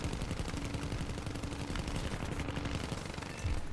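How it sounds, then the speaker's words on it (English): Rapid bursts of 20 mm aircraft cannon fire in the war game Foxhole, dense and continuous over engine and battle noise, loud and close throughout. "It's a 20 millimeter cannon."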